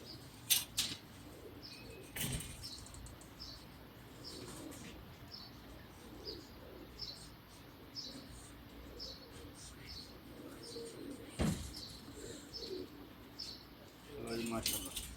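Racing pigeons cooing and flapping on a rooftop during a three-day Eid cup flight in Jeddah, Saudi Arabia, with repeated soft bird calls and wing bursts under people talking nearby.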